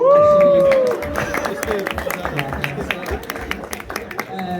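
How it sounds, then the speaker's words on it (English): An audience at a Uruguay Day event at Masaryk University claps in dense, steady applause with crowd murmur, starting after a brief tone and continuing under nearby talk. "why are you clapping?"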